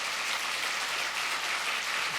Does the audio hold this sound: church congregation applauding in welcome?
yes